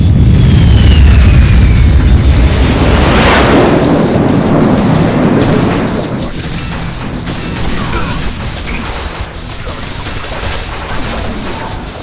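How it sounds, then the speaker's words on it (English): Explosives set off by a switch rumble and crash loudly in a Quake 2 mod, a heavy booming blast that rolls on and slowly fades into a long dense rumble of debris. "That, switch detonates the, explosives that are on the floor."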